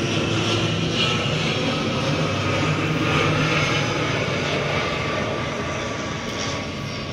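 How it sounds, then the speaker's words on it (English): A steady, broad roar of an airplane passing overhead, loud and continuous throughout with no other sounds. "There's a pink airplane going by"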